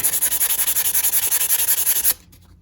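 Repeated rapid rubbing strokes scrub corrosion off a kitchen knife blade, an even, quick scratchy rhythm close up for about two seconds before stopping abruptly.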